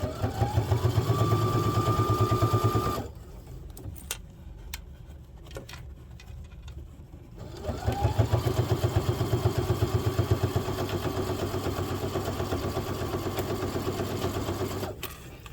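A sewing machine stitching fabric for a pouch, a loud rapid mechanical chatter that runs steadily, pauses for a few seconds while faint handling noises continue, then starts up again and keeps going to the end.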